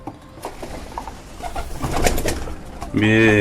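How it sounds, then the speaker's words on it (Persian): Pigeons coo in a burst of rich, throaty, warbling calls toward the end, after a stretch of soft rustling and background noise. "کبوترها ظاهرا از گرسنگی خود را به تیریزش زدند"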